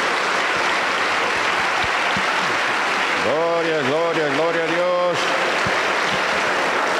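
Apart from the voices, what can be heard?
church congregation applause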